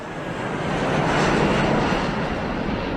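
An Airbus airliner passes low overhead just beyond the end of a runway, a loud, steady broadband engine roar swelling and holding close by.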